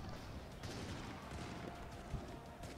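Massed cannon fire from a Byzantine artillery stack besieging a fort in a strategy video game, a dense continuous rumble of overlapping booms and crackling blasts, steady and loud throughout with no pauses.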